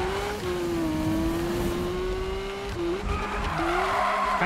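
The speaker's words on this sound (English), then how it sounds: "Do some more drifts." Car drifting in Need for Speed 2015, its engine droning steadily while the tires squeal and skid continuously, the pitch shifting as the slide changes, loud and close with no talking.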